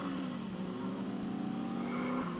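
A car drives in The Saboteur, its engine droning steadily throughout with a sustained tire squeal in the middle, continuous and fairly close with no talk.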